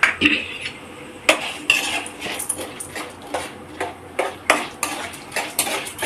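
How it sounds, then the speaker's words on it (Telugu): Chana dal fries in a pan while a metal spoon stirs it, giving a regular series of clinking scrapes against the pan, close and fairly loud, over a faint background sizzle. "బండిలో శనగపప్పు వేసి ఫ్రై చేసుకుందాం"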